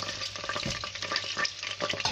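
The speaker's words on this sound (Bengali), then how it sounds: "এখন আমি রসুন দিয়ে দিব" Garlic fries in extra virgin olive oil for khichuri, a dense close crackle and hiss with scraping stir strokes running throughout, steady and fairly loud, no voices.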